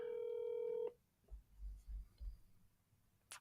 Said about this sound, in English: Calling Sherry.